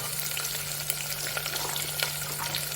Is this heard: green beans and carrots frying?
yes